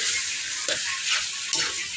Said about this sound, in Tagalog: Halo lang halo.